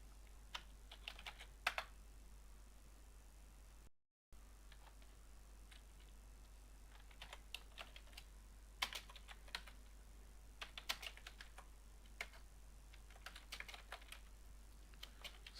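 Quiet clusters of keystrokes tap on a computer keyboard in short bursts separated by pauses, close by and alone over a faint hum.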